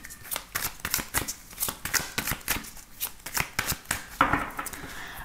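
Tarot cards being shuffled by hand in a quick series of crisp riffling snaps and soft slaps, close and fairly quiet, with no voices over it.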